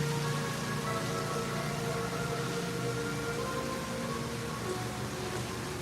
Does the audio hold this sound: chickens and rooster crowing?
no